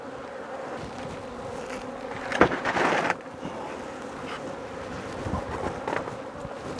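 Honey bees buzz around a newly relocated nucleus hive, a faint, steady hum with a few louder passes as individual insects fly close by.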